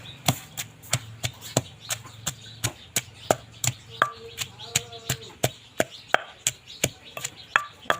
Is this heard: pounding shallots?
yes